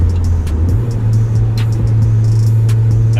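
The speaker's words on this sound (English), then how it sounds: "When you drive in the car, try to vary a lot in RPM by downshifting" Mazda MX5 NA Miata engine held near idle and then revving up a step, a loud steady drone from inside the car with the pitch climbing as it downshifts, no talking.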